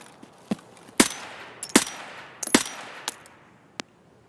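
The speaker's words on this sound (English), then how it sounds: "Oh, that's somebody shooting you guys, yeah." Gunfire in the shooter Escape from Tarkov, a scattering of sharp distant shots in irregular bursts, several loud cracks with reverberant tails followed by fainter isolated pops, no talk.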